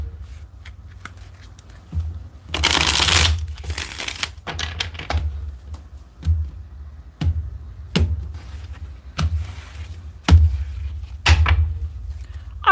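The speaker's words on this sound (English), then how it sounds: "Let me get two more good shuffles, and we'll definitely get started here." Tarot cards are shuffled by hand up close, a run of crisp riffling bursts, soft slaps and scattered clicks with uneven rhythm and short pauses between them.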